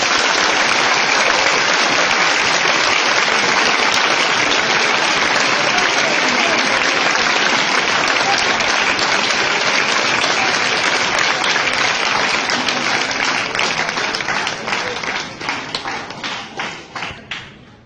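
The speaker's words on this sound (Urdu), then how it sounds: "ایک دفعہ پھر تالیاں" A large audience breaks into sustained applause after a Defence Day speech, dense clapping that holds loud and even for many seconds before thinning into scattered claps and fading out.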